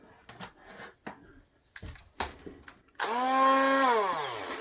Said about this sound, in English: it's time to bring the burr mixer in.